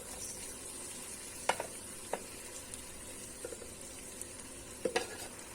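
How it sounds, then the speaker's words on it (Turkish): Quiet, steady sizzle of chopped peppers frying in olive oil, with occasional soft clinks and scrapes of a utensil stirring the pan. "Şöyle güzelce bir kavuracağız biberlerimizi"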